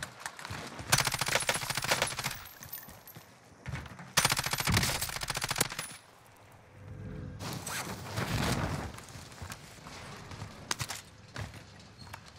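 Rapid automatic gunfire in the battle-royale shooter Warzone, loud bursts coming and going in several rounds with quieter gaps between them.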